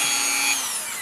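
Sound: Dremel rotary tool cutting a circle

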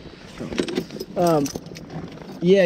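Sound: keys jangling

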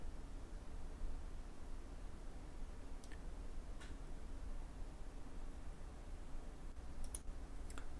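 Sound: computer mouse clicking

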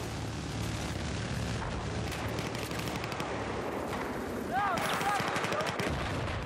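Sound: gunfire in the video game Battlefield 4

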